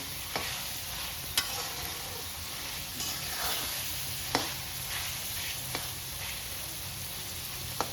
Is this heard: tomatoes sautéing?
yes